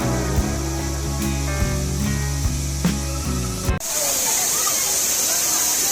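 Agasthiyar Falls at Papanasam comes in as a steady, broadband rush of falling water. It follows a few seconds of rhythmic music, then continues alone and fairly loud.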